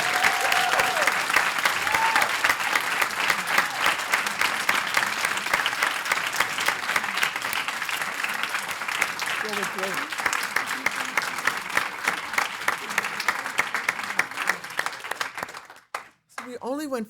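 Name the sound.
applause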